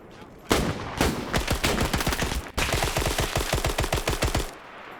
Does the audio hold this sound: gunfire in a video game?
yes